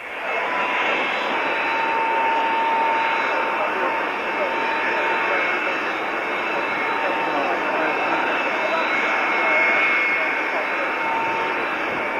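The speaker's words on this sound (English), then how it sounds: "First of the hunters just coming down to land, Mark Hanna in the lead hunter" At an airshow of classic jets, Hawker Hunter jets come down to land with a loud, sustained engine roar and whine. A commentator talks over the noise throughout.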